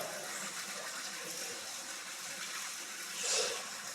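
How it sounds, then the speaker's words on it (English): Water runs from a faucet in a steady, moderate gush, a continuous wash of flow that swells briefly near the end, with no talking heard. "More water's coming through the faucet."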